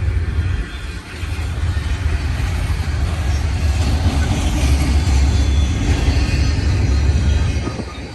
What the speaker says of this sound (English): Port, stack train going to Long Beach.